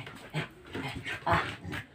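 A male dog panting close by, quick soft rhythmic breaths repeating about every quarter second, fairly quiet with no talk over it.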